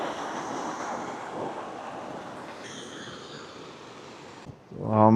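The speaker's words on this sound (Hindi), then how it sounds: "ये पानी आर्टिफिशियली नीचे गिरा रहे हैं।" Water made to fall artificially at a lagoon with floating huts in Swat Valley: a constant broad rushing wash close by, ending with a sudden louder tonal burst.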